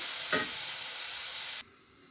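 Tomatoes fry in a pan with a steady, loud sizzle and a brief stirring scrape near the start, and the sound cuts off abruptly before the end.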